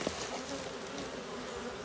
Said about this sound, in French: il faut regarder ces abeilles qui sont à l'entrée